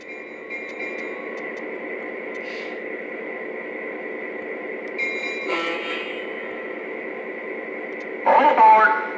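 A Lionel PRR Stationsounds diner car model train plays its sound effects, a continuous tinny hum and chatter from a small speaker, with brief louder bursts of clatter near the middle and end.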